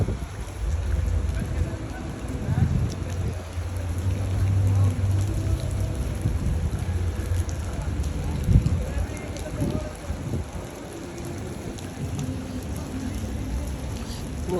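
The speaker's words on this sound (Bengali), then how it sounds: "বৃষ্টি হচ্ছে," Heavy rain falls in Dubai, a dense, continuous wash of noise with low wind rumble over the whole stretch, steady and close with slight swells.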